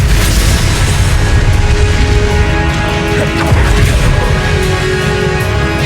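An Expelliarmus spell is cast in the video game Hogwarts Legacy, giving a loud magical blast and crashing impact over a dense, sustained battle soundscape.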